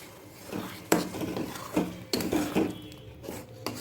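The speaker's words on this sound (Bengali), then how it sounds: "এবার ভালো করে মিক্স করে নেব।" Spinach paste is stirred into minced meat in a pan, with a spoon scraping and knocking against the metal. The clatters are irregular and close, with a soft wet shuffle between them.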